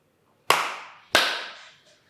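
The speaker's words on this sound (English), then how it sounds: "Just clap." Two sharp, close hand claps ring out about half a second apart in a quiet room, each with a short reverberant decay marking the start of a recording.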